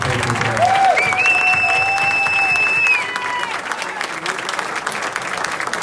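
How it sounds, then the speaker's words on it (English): Audience applause for debate candidates closing out a 2020 Indiana congressional district primary debate, a steady wash of clapping across the whole stretch, loudest in the first half, with a brief tonal whine near the start. "Let's give our candidates a round of applause for their participation today."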